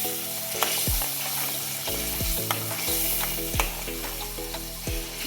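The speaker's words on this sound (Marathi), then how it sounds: "त्यानंतर आपण वाटलेलं वाटण, व याला व्यवस्थित मिक्स करून घ्यायचे आहे." Ground masala paste sizzles and fries in a pan while a spoon stirs it, with steady crackling and repeated scraping knocks against the pan, close up.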